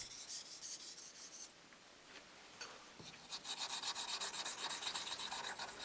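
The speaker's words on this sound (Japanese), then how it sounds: "最後に砥石の粉で刃を磨くと地金の部分だけが白くかすむ。" Kogatana knife blade polished by hand with whetstone powder, giving a quiet, steady rhythmic rubbing and rasping with repeated strokes and no talk.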